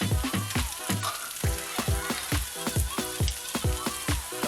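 Onions, peppers and cumin stir-fry in a pan: a sizzling hiss under a brisk, regular run of spatula strokes thumping and scraping the pan. Close and steady, with no talking.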